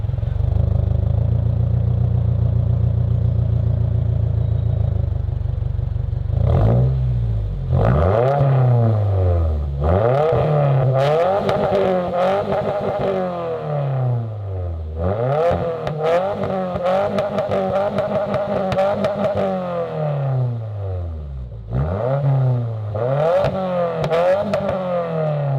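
A Subaru VB WRX fitted with an Aeroflow axleback exhaust idles with a deep drone, then revs repeatedly in sharp rising and falling bursts, loud and close, with crackles between pulls.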